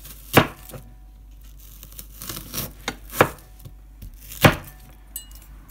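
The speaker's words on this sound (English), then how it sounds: "so we're chopping up this onion" Knife chopping an onion on a board for a garlicky curry fish dish, with several sharp, irregular chops spaced out over a few seconds, close and fairly loud with quiet gaps between.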